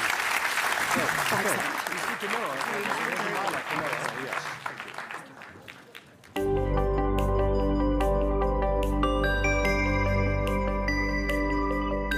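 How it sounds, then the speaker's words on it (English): Audience applause at a NATO summit panel in Vilnius, a thick wash of clapping that fades over about six seconds before a loud, steady musical tone with layered electronic notes cuts in. "Round of applause, and also a round of applause for the audience."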